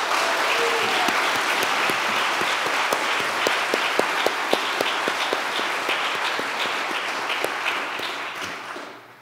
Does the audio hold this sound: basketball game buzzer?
no